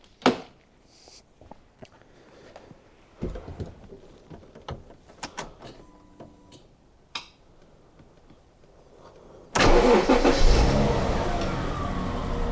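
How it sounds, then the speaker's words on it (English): An older, cheaply bought Jaguar car, partially warm, cranks with scattered clicks and clunks before its engine catches abruptly and roars up loudly, then settles into a strong steady run close by. "let's just see how it cranks over when it's partially warm"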